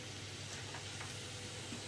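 Water boiling steadily in a covered pot on a kitchen hob, a close, continuous bubbling hiss with faint steam noise and no talk.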